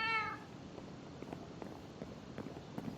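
A cat in a video game gives a short, clear meow at the very start, followed by faint, scattered soft taps like light footsteps against a quiet background.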